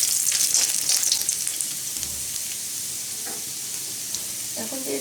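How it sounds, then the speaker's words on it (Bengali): Garlic cloves sizzle in hot mustard oil with black cumin, a steady close hiss with a few scraping stirs and light clinks as it gradually quiets. "রসুনের কোয়াগুলো একটু ভাজা ভাজা করে নেব।"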